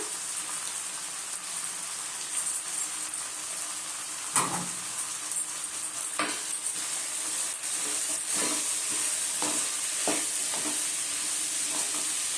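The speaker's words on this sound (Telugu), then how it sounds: "కొత్తిమీర వేస్తున్నా." Fresh coriander goes into a frying pan and is stirred through, making a steady hiss of frying with repeated clinks and scrapes of the spoon against the pan, close and clear, with no talking.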